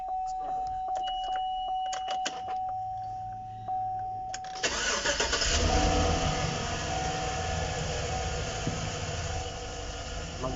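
A GMC Savana van with an injector-related misfire cranks and starts midway, its engine then running loudly and roughly up close after a quieter stretch of faint clicks and a steady tone.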